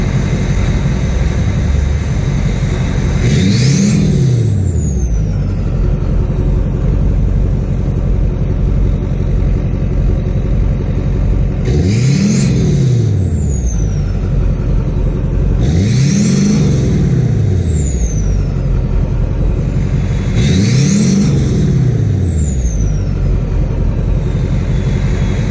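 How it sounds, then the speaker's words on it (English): Exhaust of a 2005 GMC Sierra 2500HD truck fitted with a 3-inch MBRP downpipe, revved four times in close succession, each rising roar falling back to a steady rumbling idle, loud and close with no talking. "let you guys hear what this thing sounds like with the 3-inch downpipe"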